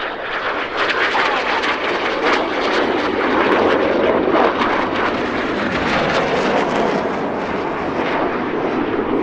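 Red Arrows BAE Hawk T2 jets sweep past in a low display manoeuvre at around 100 feet, a loud, sustained roaring jet rumble that swells and holds throughout without voices.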